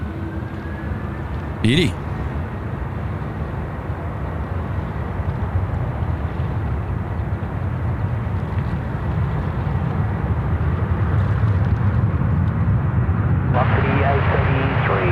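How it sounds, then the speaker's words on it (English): A China Southern airliner rolls out on runway 34 left at Sydney Airport with a steady, broad jet roar that builds slowly over about fifteen seconds, and a brief spoken word is heard partway through. "Here we go, China Southern now rolling out, runway 34 left."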